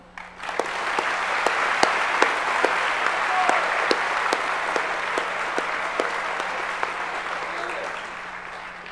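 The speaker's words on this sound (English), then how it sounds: "One more round of applause for these." Audience applause at a 2013 senior last assembly, a sustained, even round of clapping from a large crowd in a hall, with a few sharper individual claps standing out and a gradual fade toward the end.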